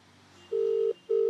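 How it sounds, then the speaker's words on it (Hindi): A phone call's ringing tone plays over speakerphone, a steady low electronic tone sounding twice in regular pulses, loud and close over a faint background hum. "ये लगातार रिंग जा रही है"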